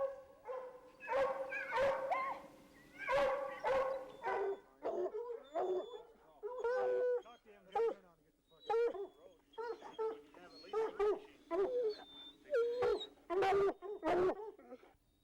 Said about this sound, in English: they're finally able to hear the dogs